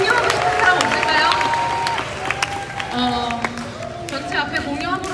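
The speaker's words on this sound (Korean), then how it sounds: "큰 박수 부탁드리겠습니다." Applause and cheering from an audience at a youth gathering event, a dense, sustained wash of clapping with crowd chatter mixed in and a voice talking over it.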